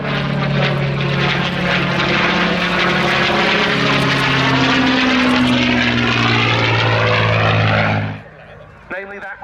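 A North American P-51D Mustang fighter, 'Tall In The Saddle', flies at Yeovilton Air Day 2017. Its piston engine roars loud and steady as it passes, the pitch sliding downward, then drops away abruptly near the end.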